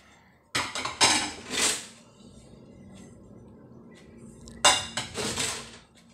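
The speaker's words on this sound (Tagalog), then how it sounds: "Sabon-sabon lang sa mga plato." Plates and dishes clatter and clink while being soaped during washing, two clustered bursts of close ceramic and cutlery knocks separated by a quieter stretch.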